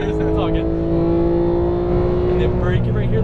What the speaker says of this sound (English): Just gotta let it rev up a little bit more.